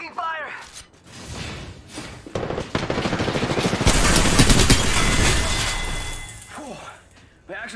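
Heavy gunfire from Apex Legends, rapid bursts swelling into a loud sustained barrage mid-clip with whooshes and impacts, while voices talk over the fighting.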